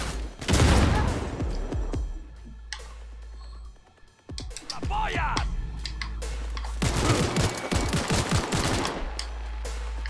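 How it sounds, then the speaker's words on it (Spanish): Rapid gunfire in the video game Cyberpunk 2077: dense bursts of automatic shots at the start and again in the second half, loud and close, broken by a brief lull with scattered sharp cracks and clatter. "Escuché disparos."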